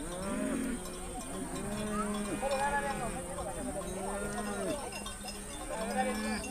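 Maasai cattle low in long, overlapping moos while a narrator speaks over them, with a faint steady high tone running throughout.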